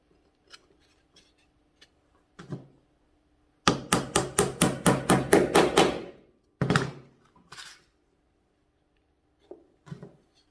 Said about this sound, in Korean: 이 부분도 못을 박고 면을 맞추고